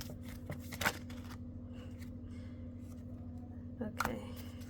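Tarot cards being shuffled by hand at close range, a soft papery riffle with two sharper bursts of card snaps over a low steady hum, no talking.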